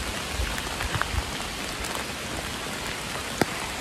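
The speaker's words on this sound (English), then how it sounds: "And it is raining" Steady rain falls on a forest trail in North Georgia, a dense continuous patter of drops on leaves and gear with a few sharper nearby drips, close and fairly loud with no talking.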